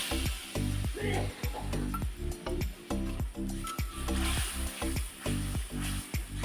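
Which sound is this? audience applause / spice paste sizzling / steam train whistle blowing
spice paste sizzling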